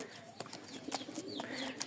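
A pair of Rajshahi Giribaj pigeons coo softly at close range, with low murmuring calls and a few faint chirps over a quiet background.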